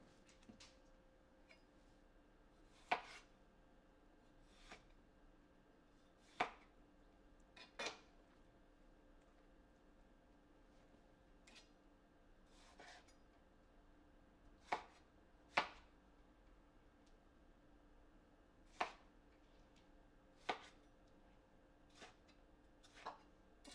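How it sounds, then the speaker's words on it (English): Large tomatoes get a rough chop with a knife, heard as sharp, irregular knocks about one to three seconds apart, over a dozen in all, fairly close and crisp against a quiet kitchen with no talking. "I'm just going to give these big ones a rough chop so that it blends well."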